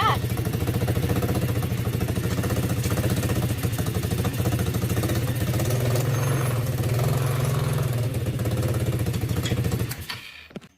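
Coolster ATV engine running with its new carburetor, a loud, close, continuous rough idle with rapid pulsing firing for about ten seconds before it cuts off near the end.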